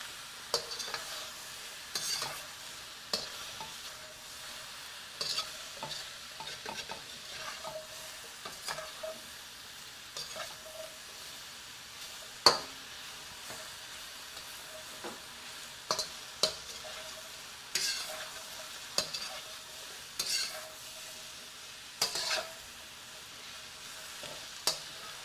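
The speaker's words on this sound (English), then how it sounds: "Just move it around. Stir and fry it. Stir fry." Chicken stir-frying in a pan makes a long, steady, fairly quiet sizzle, punctuated by regular light clicks and scrapes as the pieces are moved around.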